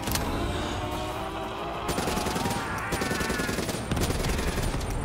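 Rapid automatic gunfire rattles through the Nightmares zombie mode of Black Ops 3 in a desert setting, a continuous burst of shots layered over loud game noise, with bursts continuing close and dense throughout.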